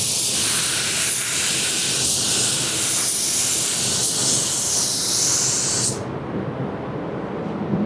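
A continuous loud hiss of a spray gun spraying clear coat steadily for about six seconds, then stops, leaving a softer airy rumble.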